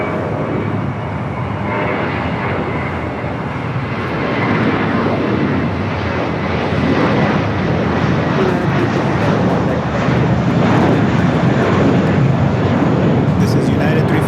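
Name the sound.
United Airbus A320 airliner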